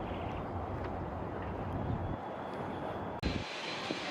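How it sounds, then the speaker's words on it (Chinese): A large passenger plane descends overhead on approach to land near an airport, its engine roar loud and continuous before cutting off sharply, with wind buffeting the microphone. "所有的飞机都是从正对我们的方向降落，朝着我们滑行。"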